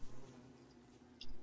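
Bees in the game Don't Starve Together make a faint, steady buzzing drone that hovers low and continuous, with a brief brighter blip near the end and no talk.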